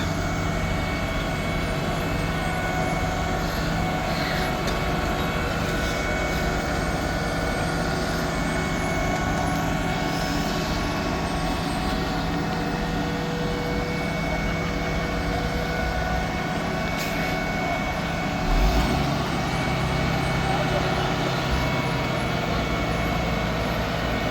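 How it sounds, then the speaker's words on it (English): Dump trucks and a road roller lay hot asphalt along a residential street, giving a steady, loud diesel engine drone that runs unbroken throughout with no talking. "we have more trucks lined up with asphalt going all the way down the street."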